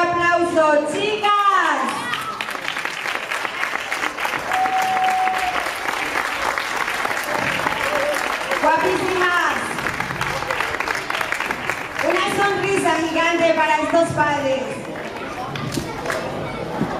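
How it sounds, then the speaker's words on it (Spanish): Audience at a performance applauds to welcome young girls, a sustained loud clapping that runs for most of the stretch with children's voices and adult speech mixed in and over it. "vamos a recibirlas con un fuerte aplauso"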